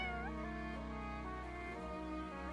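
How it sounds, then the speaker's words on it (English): A cat meows in a Fire Emblem video game, a short game-character meow over steady background game music, with no talking. "There's a cat there now, though."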